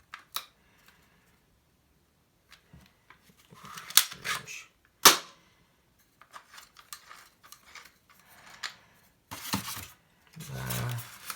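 A toy gun with a silencer attached fires muffled shots amid clicks and handling rattles, a sharp crack standing out near the middle, all close and fairly quiet.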